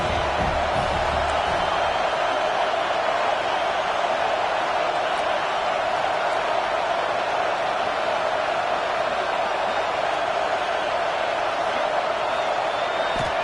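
A packed football stadium crowd at an Alabama game sends up a dense, continuous roar that stays loud and unbroken, with a voice talking faintly underneath.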